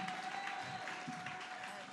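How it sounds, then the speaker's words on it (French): An audience claps in a church, a brief spell of steady, fairly faint applause with a sustained tone running beneath it. "On peut acclamer, on peut acclamer"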